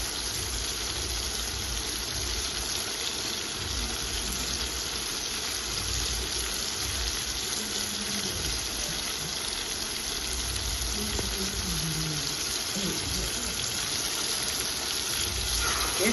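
Saltfish, also called codfish, fries in a pan with seasoning while cooking Jamaican ackee and saltfish, producing a continuous hissing sizzle with a faint watery crackle throughout and no one speaking.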